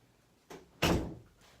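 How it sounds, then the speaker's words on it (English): A door shuts with a single close thud after a brief softer movement sound, heard alone in a quiet indoor room. "Shut the door."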